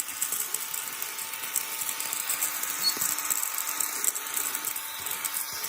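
A Mini M8 desktop vacuum cleaner runs steadily on a table, a thin, high, continuous battery-powered whir held at an even, close level throughout.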